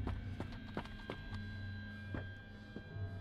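Heavy footsteps in a Roblox horror game, The Mimic Chapter 1: a series of spaced, thudding steps over a low steady hum, moderately loud with no talk over them.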